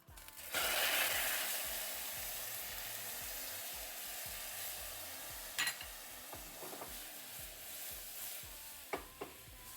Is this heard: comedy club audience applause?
no